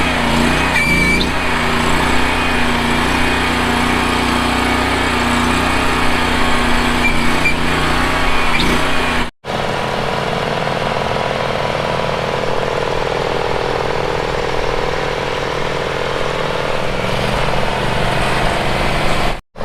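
The small engine of an orchard pruning machine runs steadily at a high, buzzing pitch in a Missouri orchard, loud and continuous with a brief cut near the middle, no voices.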